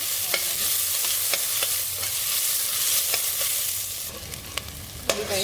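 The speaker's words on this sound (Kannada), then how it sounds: "ಚೆನ್ನಾಗಿ ಫ್ರೈ ಮಾಡ್ಕೊಳ್ಳಿ. ಇದು ಸ್ವಲ್ಪ ಗೋಲ್ಡನ್ ಬರಬೇಕು." Onion masala for a fenugreek-leaf chickpea curry fries in a pan with a steady close sizzle, broken by regular scraping stirs and a few sharper clinks toward the end.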